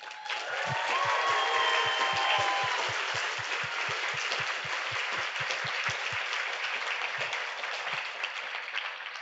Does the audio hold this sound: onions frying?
no